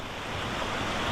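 Strong river current of the Labi River in Nueva Ecija rushes steadily and loudly, a dense continuous wash of water with no break and no voices.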